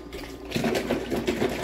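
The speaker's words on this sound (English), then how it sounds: "I hit the steamer bar, let that heat up the water for the steam" An espresso machine steam wand heats up, water gurgling and hissing steadily, growing louder partway through, with no voices.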